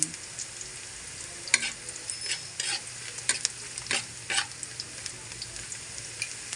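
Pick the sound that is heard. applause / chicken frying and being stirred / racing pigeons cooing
chicken frying and being stirred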